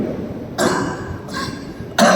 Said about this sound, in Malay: Mohon maaf agak batuk sedikit.